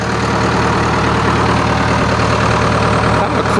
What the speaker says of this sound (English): my initial walk around of my new old John Deere 450 crawler, dozer, loader, backhoe